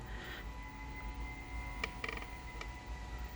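Drive belt tensioner on an Audi A6 C6 3.0 that fails to tension the belt, turning under a running engine hum with a few faint creaks and squeaks.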